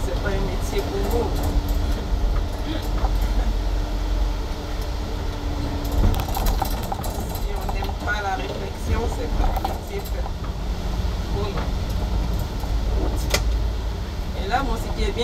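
A city bus pulling into the depot, its engine rumbling steadily at low pitch alongside rattles, clicks and mechanical whirs, with a voice talking over the noise throughout.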